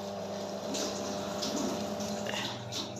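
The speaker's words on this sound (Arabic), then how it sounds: "نضيف الماء، نغطي البطاطا بالماء" Water poured over potatoes in a cooking pot for a soup, a steady liquid rush and splash that runs the full length of the clip at moderate level, with no voices.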